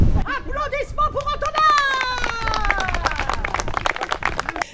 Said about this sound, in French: Applaudissements pour